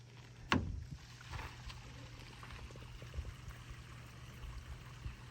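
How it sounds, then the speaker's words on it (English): Warm, soapy gray water draining from an RV holding tank into a sewer line, a soft gurgling pour with a sharp splash near the start, then a low steady trickle. "here comes the gray water, which is nice and warm and clean because we just washed dishes"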